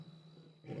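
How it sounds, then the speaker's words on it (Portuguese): A wild lion roars close by at night on a South African safari, passing near parked vehicles. It is one brief, loud, rough burst that swells at the end over a steady background hum. "O urro do leão é emocionante."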